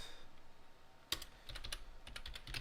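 Quick bursts of keystrokes on a computer keyboard as a search term is typed, light clicky taps in short clusters, close and fairly quiet.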